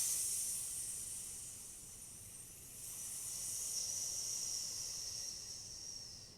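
A voice imitates a tea kettle, pushing out a long, steady, sharp hiss that swells slightly midway and holds for several seconds, close and alone.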